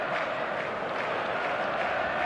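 Stadium crowd in the eFootball 2026 video game before a match: a dense, steady roar of many voices and applause held at an even level throughout, with no single voice standing out.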